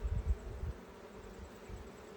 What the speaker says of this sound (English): I'm getting hit by a few bees.